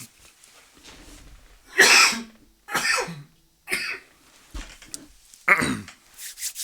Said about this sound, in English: I can feel the coughs coming.